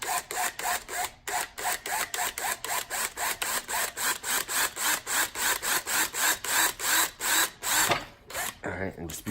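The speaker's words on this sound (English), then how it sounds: "I'm gonna drill a small pilot hole into the bottom base of this PVC pipe" A drill bores a small pilot hole into the bottom base of a PVC pipe, a loud close grinding that pulses in a steady rhythm throughout, with a brief change near the end.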